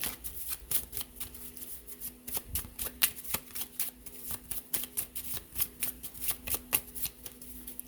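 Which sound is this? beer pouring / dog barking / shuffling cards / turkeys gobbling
shuffling cards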